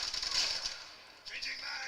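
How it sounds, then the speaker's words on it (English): A weapon magazine being changed in a video game gives brief metallic clicks and rattles, a couple of short mechanical bursts over faint background noise, fairly quiet and with no speech. "Changing mag."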